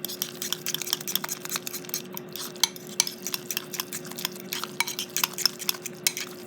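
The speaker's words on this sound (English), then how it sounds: "You want to really stir it in there." Spoon stirring an egg yolk into microwaved rice pudding, a steady run of soft scraping, clinking strokes against the bowl, close up and fairly quiet over a constant low electrical hum.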